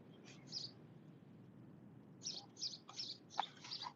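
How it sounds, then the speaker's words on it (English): Several bright, high chirps from small birds come in short bursts, a couple early and a busier cluster near the end, over a low background hum. "Y'all hear the birds?"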